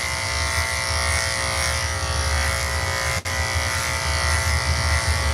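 Electric clippers trimming a dog's head during grooming, a loud continuous close buzz with a single brief dropout partway through, and no talking.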